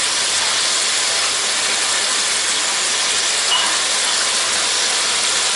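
Chopped garlic and ginger hit a hot chicken stew pot, giving a steady, loud, broadband sizzling hiss that holds evenly throughout with no talking.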